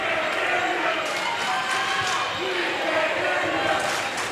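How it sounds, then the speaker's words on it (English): Student section crowd at a high school varsity volleyball match taunting the opposing Nickerson section, a continuous loud roar of chanting and yelling voices filling the gym, with occasional ball bounces and shouts within the din. "student section taunting the Nickerson section"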